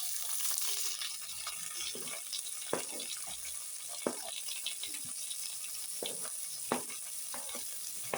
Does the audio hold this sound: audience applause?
no